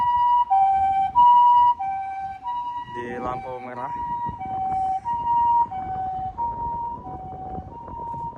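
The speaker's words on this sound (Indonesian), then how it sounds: "Dan ini ada ambulan" An ambulance siren in Japan wails loudly in a repeating two-tone pattern throughout, with a brief burst of talking partway through.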